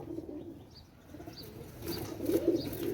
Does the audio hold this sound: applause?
no